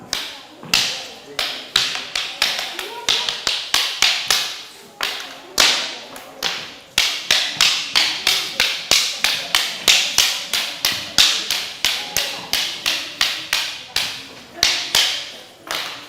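Wooden sticks clacking in a Kolthari stick-fighting demonstration, a fast, sharp, regular run of loud strikes that keeps going with only brief gaps, the rhythm of a practiced exchange.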